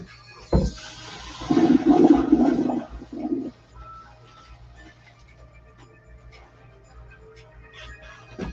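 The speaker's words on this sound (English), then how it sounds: "Into the colander it goes." Water and pasta from a pot of shrimp scampi pour into a colander in a kitchen, a loud rushing splash lasting about two seconds after a sharp knock, then fading to quiet room noise.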